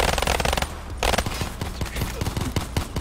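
Rapid automatic gunfire fills a Gun Game match in a video game, with dense overlapping bursts of shots close and loud throughout.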